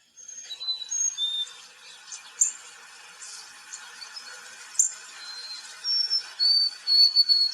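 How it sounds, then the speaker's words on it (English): Repeated high, clear whistled chirps and slurred notes from a northern cardinal, coming in bursts over several seconds against a soft hiss, with no talking. "what does a cardinal chirping sound like?"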